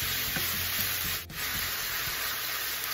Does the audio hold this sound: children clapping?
no